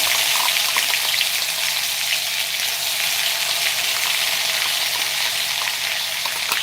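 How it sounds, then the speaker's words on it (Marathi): Onion paste sizzling loudly in a hot pan for a Maharashtrian cauliflower-potato curry, a constant hissing fry close up from start to finish, with no voices over it. "आपण जी कांद्याची पेस्ट केलेली आहे ना ती घालूया"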